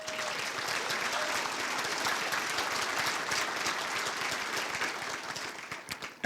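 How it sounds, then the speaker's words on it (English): Steady applause from a banquet audience fills the room, a dense patter of many hands that holds at an even level throughout before trailing off slightly near the end. "Go ahead, you can clap for that."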